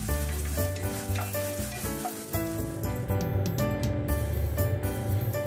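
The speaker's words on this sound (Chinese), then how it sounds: "将啲 shallot 放埋落去，又系炒香佢" Shallots stir-frying in a pan for a mussel pasta dish, with a loud close sizzle, spatula scrapes, and sustained tonal ringing from music playing underneath.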